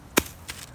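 A single sharp snip of pruning shears cutting an air-layered moringa branch off the tree outdoors, close and brief, followed by a fainter second click.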